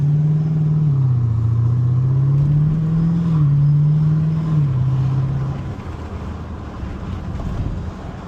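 A Jeep SRT engine drones steadily while driving down a street on a hot day, its low tone rising and dipping with throttle, loud and close at first, then easing off toward the end, with wind rush over the microphone.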